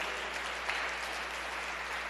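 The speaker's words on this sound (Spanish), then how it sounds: "Regalémosle un fortísimo aplauso a nuestro Señor Jesucristo" Steady, fairly faint applause from a church congregation during a Spanish-language sermon, an even wash of many hands clapping briefly with no talk over it.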